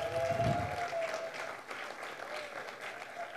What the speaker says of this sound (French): On peut applaudir au fur et à mesure.